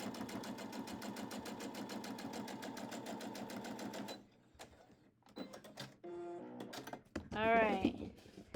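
A sewing machine stitches a quarter-inch seam on a quilt block in a fast, even run of needle strokes for about four seconds, then stops, followed by quieter handling clicks and brief talk.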